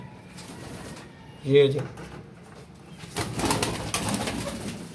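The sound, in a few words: pigeons cooing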